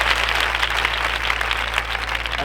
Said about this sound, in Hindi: एक बार भाई के लिए जोरदार तालियां आनी चाहिए।